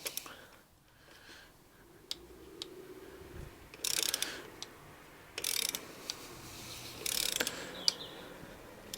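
Torque wrench ratcheting while tightening crash bobbins on a Yamaha YZF600 Thundercat motorcycle, several short clicking bursts spaced a second or two apart over faint background noise, close and fairly quiet.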